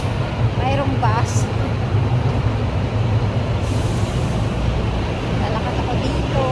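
A bus rumbles past on a rain-wet street in Whampoa, Hong Kong, just after a shower, with a steady, close roar of engine and traffic noise that fills the whole stretch.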